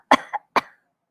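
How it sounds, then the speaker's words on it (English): A slight human cough sounds close and clear in an otherwise silent space: a quick two-part throat cough followed by a single softer cough. "there came a slight cough."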